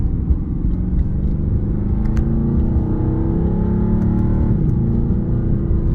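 A 2020 Mercedes-Benz AMG GT R in Sport Plus mode pulls hard from inside the cabin, its engine droning loudly and steadily with brief dips as gears shift on a bumpy road.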